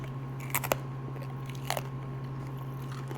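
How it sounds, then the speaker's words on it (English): Teeth biting into a crunchy taco shell, two quick crunches close to the mic separated by about a second, faint over a steady low background hum. "It is definitely crunchy."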